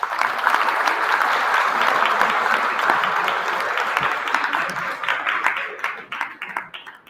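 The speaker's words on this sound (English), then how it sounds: "Guys, round of applause, please." Audience applause at a GDG DevFest Pampanga 2022 developer event, a loud sustained burst of many people clapping that tapers into scattered individual claps, with a few voices mixed in.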